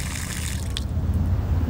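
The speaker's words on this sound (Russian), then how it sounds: "Вот вода, можно водой воспользоваться, да?" Water running from an outdoor tap at a barbecue area in Australia, a close, steady splashing flow that carries on evenly without speech.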